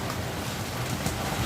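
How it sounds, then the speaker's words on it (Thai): Steady rain pattering on a glass roof over a seafood eatery, a soft continuous hiss of drops without any clear voices. "ฝนตกเลยคะ"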